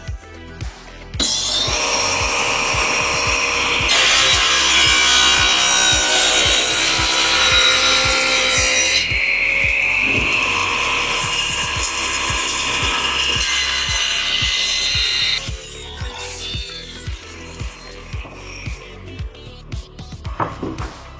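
A hand saw cuts through a corner of solid ash wood for a cabinet, producing steady, loud rasping strokes for about fourteen seconds before slowing into separate, spaced strokes.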